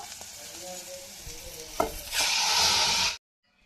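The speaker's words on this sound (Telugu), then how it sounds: "ఇప్పుడు మనము గ్రైండ్ చేసుకున్నటువంటి మిరియాల టమాటా రసాన్ని ఇందులో పోస్తున్నాను." Ground pepper-tomato juice pours into a hot pan for tomato rasam, starting as quiet stirring and a clink, then bursting into a loud, steady sizzle for about a second before cutting off abruptly.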